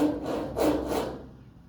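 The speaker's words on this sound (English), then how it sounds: "scratching, gnawing sound of the ceiling" A rat scratching and gnawing inside a ceiling at night, heard as a close, dry rubbing and scraping in a few uneven bursts that fade toward the end, with no voices.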